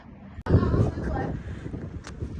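Strong, cold outdoor wind buffets the microphone in a steady roaring rush after a brief sharp knock, with someone talking over it.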